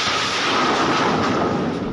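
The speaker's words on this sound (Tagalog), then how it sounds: "isang malakas na pagsabog na narinig" A loud blast aboard the bulk carrier MV Transworld Navigator in the Red Sea, heard as a sustained, dense roar of noise filling the whole moment, close and overwhelming with no speech.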